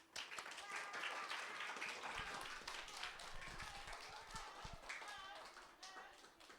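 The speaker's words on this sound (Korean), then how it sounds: "우리 박수 한번 하겠습니다." Children at an elementary Sunday worship service clap together, a rough quiet patter of hands with scattered sharper claps, mixed with voices and room noise.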